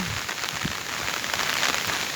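Rain from Cyclone Remal falls steadily across an open rural area, a dense broadband hiss with scattered patters and crackles. It is moderately loud and continuous, with no voices.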